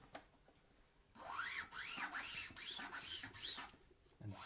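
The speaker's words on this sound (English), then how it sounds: "smooth the edges of this of both of these rails off by using a little bit of 180 grit sandpaper" Rhythmic back-and-forth strokes of 180 grit sandpaper smoothing the edges of 3D printer Y carriage rails, about six passes in a steady rhythm, close up and fairly loud, with no talking.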